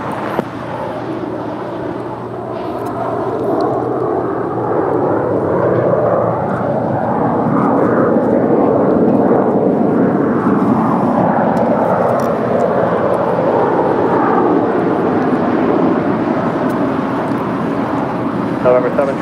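A JetBlue airliner takes off from runway 25 right at LAX, its engines a loud, steady broadband roar that holds for the whole stretch, with faint voices underneath.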